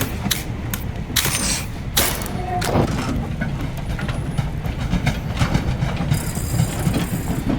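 Train from the game Voidtrain rolling along its rails while approaching a depot, a steady low rumble with rhythmic wheel clatter and occasional higher squeals, close and continuous throughout.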